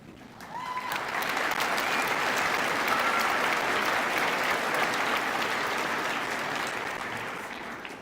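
A crowd at a high school graduation ceremony breaks into broad, sustained applause that swells within the first second, holds as a thick wash of many hands clapping, and slowly thins toward the end.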